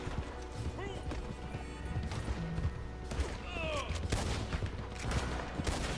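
Gunshots in Red Dead Redemption 2 crack out in scattered bursts amid hoofbeats and mechanical clatter, with a voice talking over the gunfire.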